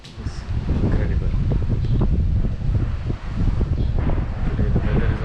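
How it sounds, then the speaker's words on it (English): Strong wind blowing at a luxury hotel, a dense, steady roar buffeting the microphone with rustling gusts throughout, loud and close, with no clear talking. "It's a bit windy"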